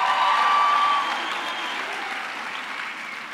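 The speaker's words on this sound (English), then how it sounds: "give yourselves a round of applause" Graduates and audience at a university autumn graduation ceremony applaud in a dense, even wash of clapping that starts loud and eases slightly as it continues.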